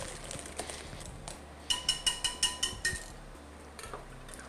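Whisk clinking rhythmically against a mixing bowl while mashed bananas and vanilla extract are stirred into banana chocolate chip bread batter, a quick run of about seven close, bright metallic taps.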